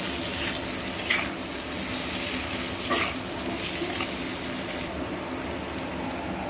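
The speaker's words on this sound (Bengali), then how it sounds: "জিরে গুঁড়ো দিয়েও খুব ভালো করে আলু আর কচুর সঙ্গে মিশিয়ে নেব।" Potatoes and taro frying in a pan with cumin powder, a steady, close sizzle with soft scraping stir strokes running through it alone.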